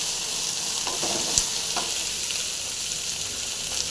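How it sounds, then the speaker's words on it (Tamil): Coriander, curry leaves, radish stems and ginger fry lightly in a pan, giving a steady, close sizzle with a couple of faint stirring knocks and no voices. "இப்போ இதை போட்டு லைட்டாக ஃப்ரை பண்ணிக்கலாம்"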